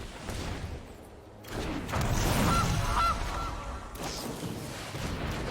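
Goose honks sound in the card game Magic: The Gathering Arena as a Gilded Goose card is played, a couple of short nasal calls over a busy game soundscape.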